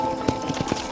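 A few clip-clopping hoofbeats from a horse in Red Dead Redemption, close and distinct, in an uneven walking rhythm over a faint steady hum.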